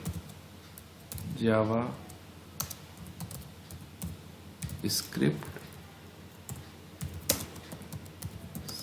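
Someone types on a computer keyboard with light, rapid clicks, close by, while a person talks over most of it.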